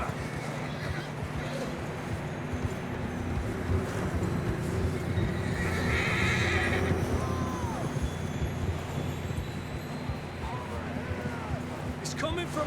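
Horses neigh and whinny in the video game Red Dead Redemption 2 over a steady outdoor bed of hoofbeats and rumble, with a clear whinny near the end.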